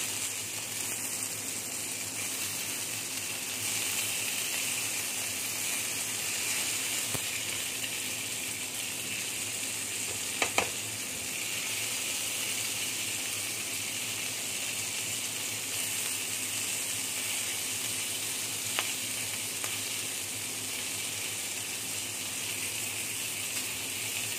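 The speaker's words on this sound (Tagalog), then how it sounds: "luto tayo ng homemade longganisa" Homemade longganisa sausages fry in a pan with a steady, moderate hiss and sputter, a few sharper pops and crackles standing out, with no one speaking.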